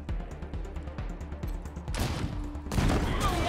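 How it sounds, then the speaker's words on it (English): In the video game Wasteland 3, steady rapid gunfire crackles before a rocket launcher fires with a loud rushing whoosh, followed by a heavy, roaring explosion. "Well, we wanted to try the rocket launcher."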